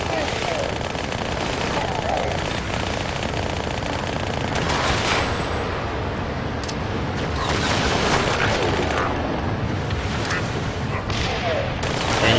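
Continuous gunfire and explosions from the Halo Spartan Assault video game, a dense, loud wall of rapid shots and booms that runs steadily throughout with no clear pauses.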